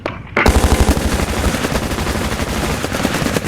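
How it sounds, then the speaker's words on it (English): Sustained covering gunfire in a VR shooter game, a loud rapid automatic burst starting abruptly after a brief quiet and continuing in a steady stuttering rhythm to the end. "Covering fire."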